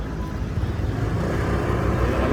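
Motorcycles rolling past on Roxas Boulevard during an informal motor show, a continuous loud traffic roar of engines that builds slightly toward the end.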